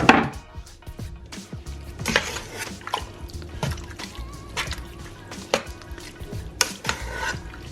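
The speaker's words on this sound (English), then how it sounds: "give it a stir up." A pot of puha and mussel stew gets stirred, a spoon scraping and clinking against the pot with wet sloshing and scattered sharp knocks, close and fairly quiet, with no talk.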